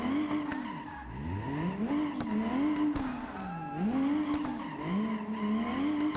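A car drifts with handbrake turns around a karting track, its tires squealing in long repeated swoops over a loud, close engine that revs and falls with each slide.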